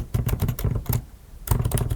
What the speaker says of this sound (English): So simply type that add my jewelry products.